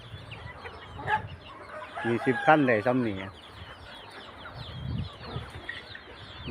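Hens cluck and chatter nearby amid background noise, with someone speaking briefly over the birds.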